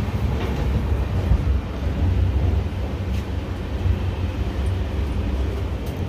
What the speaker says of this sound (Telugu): ట్రైన్ అయితే మూవ్ అయింది